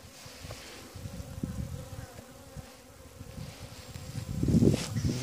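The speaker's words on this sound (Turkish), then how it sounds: "Bu da bizim hırçın arı." Honeybees buzzing around an open hive during an inspection, a steady close drone of many wings that swells louder near the end, with no talking.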